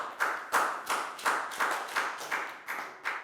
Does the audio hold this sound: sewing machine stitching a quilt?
no